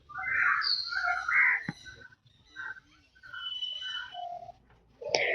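Birds kept in a mesh-screened cage at Pelling, West Sikkim, call out in bursts of bright chirps and whistles, fairly close and with short gaps between them, with no talk over the calls.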